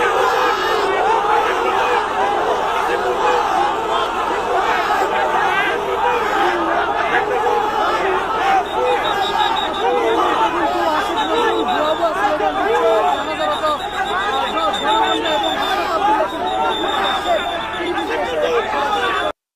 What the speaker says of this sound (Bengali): ভুয়া ভুয়া স্লোগান দেয়।